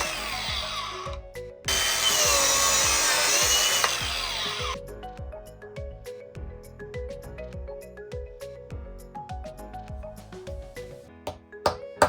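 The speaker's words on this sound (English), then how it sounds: "that's where I'm gonna line the biscuit joiner up to make those holes" A power tool whirs in a steady rising burst while cutting slots in wood for craft sailboats, followed by quieter tapping and knocking of wooden pieces with a few sharp clicks at the end.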